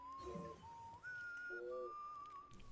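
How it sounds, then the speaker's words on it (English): A person whistles a simple tune in the Death Stranding video game, with clear sustained notes that step between pitches and pause briefly, heard fairly close over a soft game background. "Whenever you sit down to rest, for example, you can whistle to your BB."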